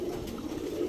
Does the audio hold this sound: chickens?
no